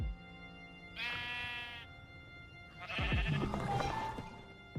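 Minecraft sheep bleat twice, close by and fairly loud. The first is a clear wavering call, and after a short gap a second, longer, rougher bleat follows, with no talking.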